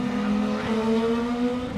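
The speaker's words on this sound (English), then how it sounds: "We got some cars coming by?" IndyCar race cars pass during qualifying at the Grand Prix circuit, a sustained high-revving engine drone with a shifting pitch, fairly loud and continuous over the short span, no speech.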